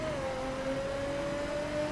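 A Lotus car's engine in the video game The Crew holds a steady, droning whine at a constant pitch, loud and close, with no talk over it.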